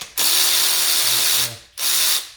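A powered ratchet spins out the 10mm rocker cover bolts on a Toyota 2AZ engine: a loud, close mechanical whir runs for over a second, stops, then returns in a shorter burst.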